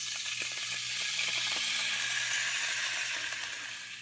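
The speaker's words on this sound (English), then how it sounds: "we'll add some kikkomans to the frying pan" A steady, bright sizzle from soy sauce hitting a hot frying pan, holding constant for several seconds before easing slightly.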